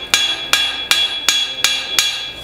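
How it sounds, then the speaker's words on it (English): A farrier's hammer strikes a horseshoe on an anvil to pull out a clip: six sharp, ringing metallic blows at an even pace, close and loud, with a bright ringing tone after each hit. "edge of the hammer, to pull the clip out"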